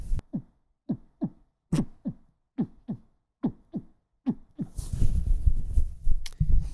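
A heartbeat picked up by a microphone gives a steady series of soft, deep double thumps, about eight beats in a slow even rhythm, before a louder rumbling noise swamps them.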